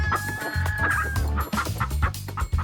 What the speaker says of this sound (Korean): 여러분 닭입니다. 닭.